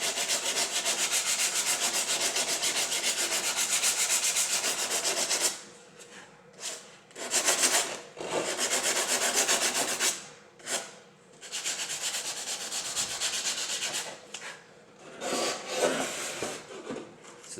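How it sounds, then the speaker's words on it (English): Damaged carbon fiber fender being sanded by hand. A harsh, continuous rasping scrub sounds up close in long strokes, broken by short pauses and uneven bursts later on. "We'll just sand that out."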